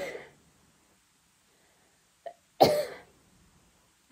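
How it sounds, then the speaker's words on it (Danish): A person coughs once sharply and close up, after a faint earlier throat sound, with quiet stillness between. "Jeg hoster meget på tiden"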